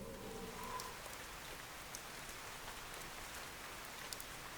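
Steady, soft rainfall in the video game Fantasian Neo Dimension, an even hiss of drops with a few faint pattering ticks, quiet and continuous with no voices.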